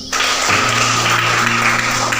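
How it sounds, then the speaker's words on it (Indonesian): Classroom applause breaks out and holds steady at a loud, dense level for a couple of seconds, a broad crackling wash of many hands clapping with no talk over it. "tepuk tangan dulu"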